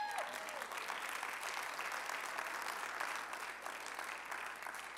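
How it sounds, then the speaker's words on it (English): Congregation at a revival service clapping hands, a dense steady applause that holds loud throughout with faint crowd murmur beneath. "Come on, clap hands for you."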